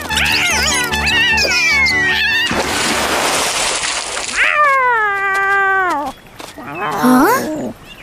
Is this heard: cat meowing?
yes